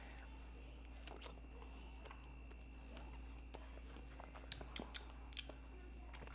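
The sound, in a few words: chewing ripe dragon fruit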